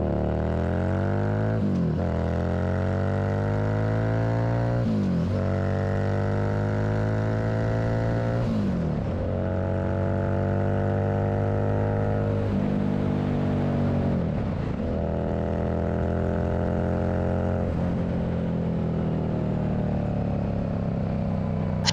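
A Harley motorcycle accelerates hard through its gears at speed, each shift marked by a falling drop and a climbing rise in engine pitch, loud and continuous under heavy wind rush; a minivan passes alongside.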